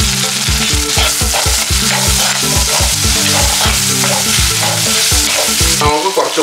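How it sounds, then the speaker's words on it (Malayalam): Crushed shallots, green chili and curry leaves fry loudly in a pan for a chili fish curry, a steady dense sizzle broken by repeated rhythmic stirring scrapes, close and continuous with no talking. "ഇഞ്ചി വെളുത്തുള്ളി എല്ലാം മൂത്തതിന് ശേഷം നമുക്ക് ഇതിനകത്തേക്ക് ഇടിച്ചു വെച്ചേക്കുന്ന ചെറിയുള്ളി ആഡ് ചെയ്യാം"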